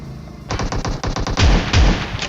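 Rapid gunfire from PUBG Mobile, an S12K shotgun and Mk14 rifle at close range, bursts of loud shots in quick succession with heavier booming blasts toward the end, no talking.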